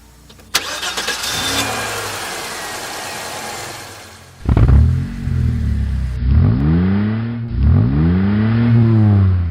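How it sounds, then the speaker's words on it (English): An old car engine cranks with a whirring starter, then catches and fires up, followed by several loud revs rising and falling, close by. "the ECU is ready to start the engine. So I go back inside and crank it"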